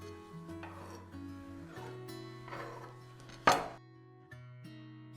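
One crisp knife chop through rolled homemade egg noodle dough hits the board sharply, a single loud strike against quiet, steady tonal background music.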